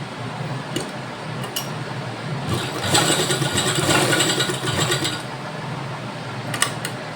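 A sewing machine stitches the side seam of a boat-neck, sixteen-panel full-length gown made from a silk pattu saree, running as a steady mechanical whir that grows louder and busier in the middle, with no talking.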